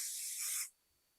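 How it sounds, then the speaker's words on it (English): Adhesive spray misted onto embroidery stabilizer, a single close, steady hiss lasting just over half a second before cutting off into quiet. "I'm going to take my adhesive spray and just"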